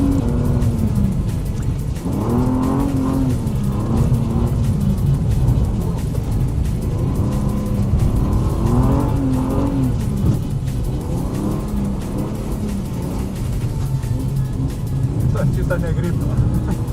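A car drifts on a snowy frozen lake, its mid-pitched engine revving and whirring steadily throughout, rising and falling in rhythmic surges, with people talking over it.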